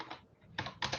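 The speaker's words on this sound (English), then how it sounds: "I'm also typing meeting minutes while" Quick bursts of typing on a computer keyboard during an online meeting, close, crisp clatter of keys in short clusters separated by brief pauses.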